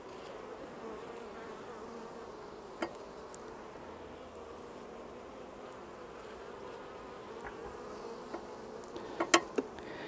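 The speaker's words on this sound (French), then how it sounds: "il y a des abeilles dessus" Honeybees buzz steadily around a hive frame during beekeeping work, a continuous low drone with a few closer insects briefly passing near.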